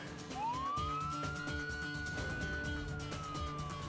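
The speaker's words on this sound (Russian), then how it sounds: "Это пожарная машина города Санта-Фе." A Santa Fe fire engine siren wailing as one long rising then slowly falling tone, moderately distant and steady, over a rumbling busy background with no talk.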